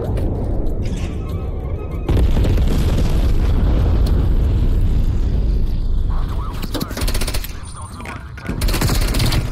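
Booming explosions and gunfire from a napalm strike in Call of Duty: Black Ops Cold War, loud and continuous across the scene with heavy low rumble and bursts, under a player talking.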